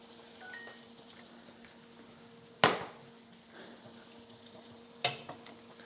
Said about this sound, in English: Coming back with our red potatoes, we're going to go ahead and get that added.